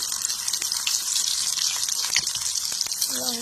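Onions tipped into hot oil already seasoned with cumin seeds, hissing as a steady broadband sizzle with faint crackles, and a voice briefly speaking at the end.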